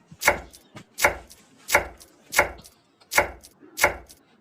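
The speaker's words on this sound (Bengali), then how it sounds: "তো প্রথমে আমি ধনিয়া পাতাটা কুচিয়ে নিচ্ছি" Coriander leaves chopped with a knife on a cutting board, six evenly spaced crisp thuds of the blade at a steady rhythm, close and clear with quiet between strokes.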